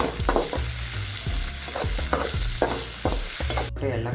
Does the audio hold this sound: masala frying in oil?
yes